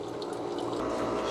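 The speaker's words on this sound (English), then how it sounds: "What you're hearing now is a little pump," A small pump inside a countertop ice maker fills the internal reservoir with water, giving a steady, even rush of trickling water noise that stays constant throughout, with no talking.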